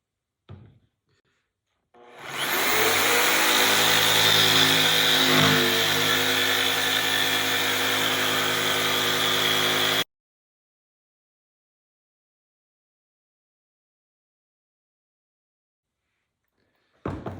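A power tool cuts boat frames out of a sheet of marine plywood, a loud, steady whining buzz that starts abruptly, runs for about eight seconds and then stops dead, with no talk.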